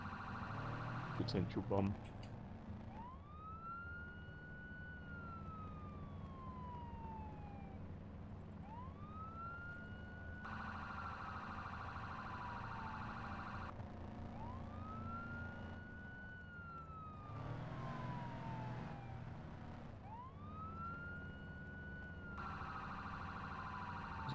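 Police car siren in the ArmA 3 game, a rising and falling wail repeating in long sweeps, steady and prominent, with a brief voice speaking near the start.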